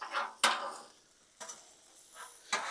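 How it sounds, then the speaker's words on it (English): A spatula stirring chicken tortellini in a creamy sauce on a cooling Blackstone griddle, giving soft scraping strokes in an irregular rhythm against a faint sizzle, close and fairly quiet. "But while it cools down, I'm going to keep on stirring."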